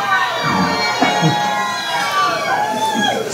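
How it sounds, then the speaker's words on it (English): A crowd cheers and shouts during a solar eclipse, excited voices, including children's, rising and falling in a lively, continuous outdoor din. "The crowd's getting really excited too."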